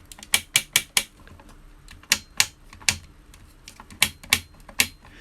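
Sharp plastic clacks from the joints of a 400% Bearbrick toy figure come in quick bursts of three or four, with short pauses between, close and crisp in a quiet room.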